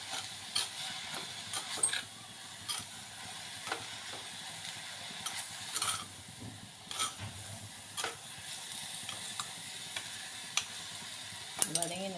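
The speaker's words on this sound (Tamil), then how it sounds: "முளைக்கீரை கட்டினாலும் சீக்கிரமாக அது வதங்கிடும்," Amaranth greens sauté in a pan, giving soft sizzling under intermittent scraping and clinking stirs of a utensil, close and moderate in level, with no speech.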